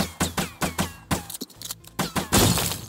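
Rapid pistol fire from the Frenzy in Valorant, aimed at a door on the Lotus map: about ten close, sharp shots in quick bursts, with glassy, cracking impacts and a brief pause midway.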